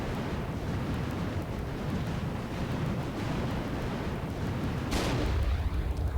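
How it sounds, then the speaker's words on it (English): A video game explosion in Procyon, a heavy, sustained rumbling roar of blasts and booms that swells louder near the end, with a sharp crack breaking through. "Nice explosion, though."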